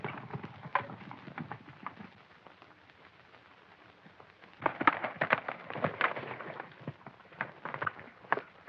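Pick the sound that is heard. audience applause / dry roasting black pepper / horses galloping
horses galloping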